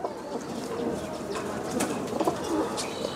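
Desi Giribaj flying pigeons give soft, low cooing with faint shuffling and brief flutters in a crowded loft, steady and close.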